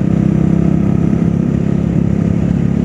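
Royal Enfield Classic 350 BS4 motorcycle riding in third gear, a loud, steady engine thrum with a constant low rumble and wind noise, no talk.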